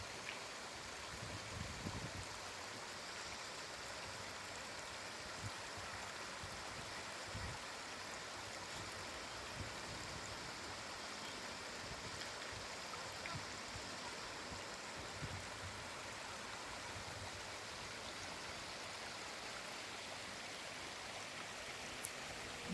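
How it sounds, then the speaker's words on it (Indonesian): A clear, cold mountain stream on the rocky Mount Slamet trail gurgles and rushes continuously, a soft, steady wash of water heard close by with no voices. "sungai. Airnya jernih dan dingin sekali. Gemerciknya bikin suasana pendakian terasa lebih hidup."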